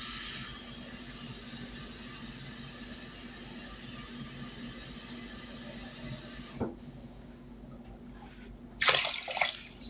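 Liquid pours steadily into a pot of ham and white bean soup with a continuous hissing splash that ends partway through, followed by a few faint clinks and rustles nearby.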